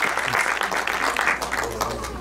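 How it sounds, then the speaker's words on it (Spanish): An audience at a Peruvian celebration of Arequipa applauds warmly, with dense clapping that holds steady over a low background hum and swells slightly at the start. "Un fuerte aplauso por Arequipa."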